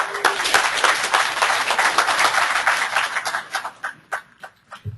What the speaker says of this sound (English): A round warm applause for Tessie to welcome her.